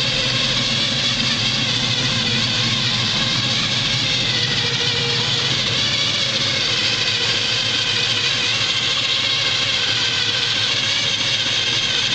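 A 750-horsepower V8 1969 Chevrolet Camaro SS idles with a steady, loud, throaty exhaust rumble that continues unchanged throughout, close by and without speech.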